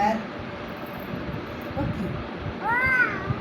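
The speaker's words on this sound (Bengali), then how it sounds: "এটা কি বিড়াল ম্যাও ম্যাও" A cat gives a short, clear meow near the end, with a faint brief one at the start, over low background rumble.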